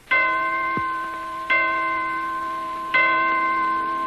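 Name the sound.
clocks in Detroit chiming four o'clock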